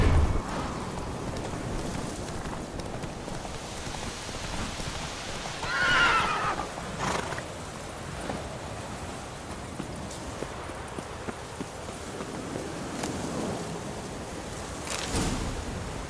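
Geralt's horse Roach in The Witcher 3 whinnies and steps along, with soft hoof clops and a brief neigh over a faint rainy background.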